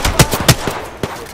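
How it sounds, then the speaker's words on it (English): Rapid gunfire in Apex Legends, several close, punchy shots in an uneven burst with a final shot after a short pause. "Shot fired, and they're hitting me."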